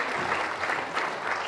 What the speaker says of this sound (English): Spontaneous clapping.